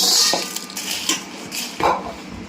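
Byadgi chillies being stirred and roasted in a pan, with scattered scraping and light clinks of a utensil against the metal, irregular and close, with no talk.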